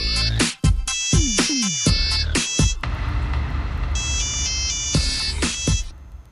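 A phone ringtone sounds in a Telugu TV serial scene, a series of bright repeating electronic tones with sharp chirps early, then a sustained chiming melody continuing loud and alone until the end.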